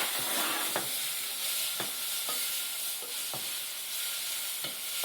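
Spinach fries in a pan with a constant loud sizzle and hiss, while a utensil stirs it with occasional scrapes and taps against the pan, close and without talk.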